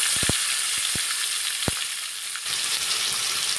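Fish fry in hot oil tempered with black cumin, a loud, steady close sizzle with a few sharp pops and clicks of the pan early on, easing slightly before resuming.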